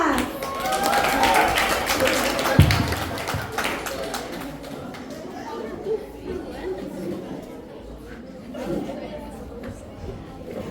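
Audience at a school literary café applauding as a student actor enters, brisk clapping at the start that thins out under busy crowd chatter and voices for the rest.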